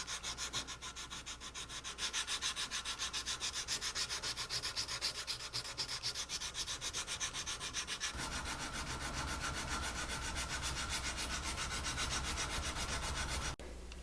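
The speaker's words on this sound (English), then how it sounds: "When we come in here and just start sanding this out, it helps to put a drop of oil on there." Sandpaper works over a sculpted Bowie knife handle with a drop of oil on the surface, producing a loud, close, continuous rasp in quick, even back-and-forth strokes.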